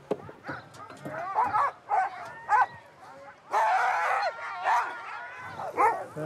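A pack of Greenland husky sled dogs barks, yips and whines at evening feeding time in Norway, with many overlapping voices in repeated loud, close bursts.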